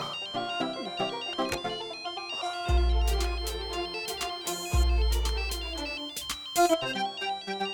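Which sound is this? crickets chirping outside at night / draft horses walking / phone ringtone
phone ringtone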